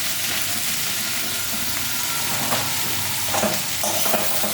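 Food frying in a pan as salt is stirred in, a dense steady sizzle with a few soft scraping strokes of the spoon near the end.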